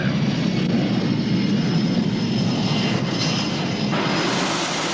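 Airliner engines during the climb, passing 13,000 feet, make a steady, loud, broadband roar heard from inside the cabin, unbroken and with no voices.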